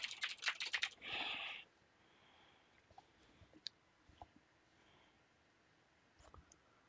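A short rapid burst of computer keyboard typing as a name is entered into a field, followed by a few sparse, faint key clicks in a quiet room.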